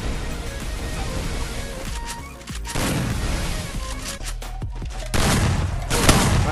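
Gunfire in the mobile shooter game Free Fire: sharp repeated shots and bursts in quick succession, loud and close, with heavy booming bursts near the end.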